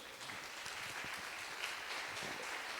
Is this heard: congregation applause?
yes